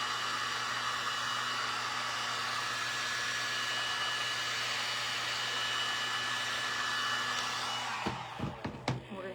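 A heat gun blows a continuous, loud hissing roar while warming plastic to mold around a bottle, running alone for about eight seconds before cutting off into a few clatters.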